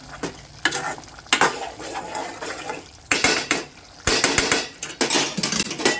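Goat tripe fry being stirred in a pan, with loud metallic scraping and clanking of a utensil against the pan in repeated bursts over a steady sizzle, close and without talk.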